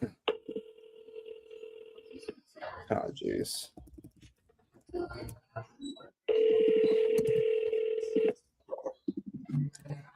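Touch-tone keypad beeps punch in a phone number in a quick series of short tones, followed by a long steady ringback tone, with someone talking and muttering between the beeps.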